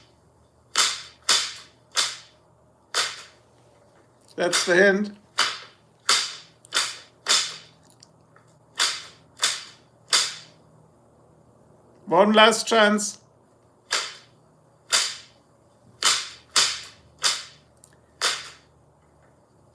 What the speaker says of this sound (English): So that was the whip.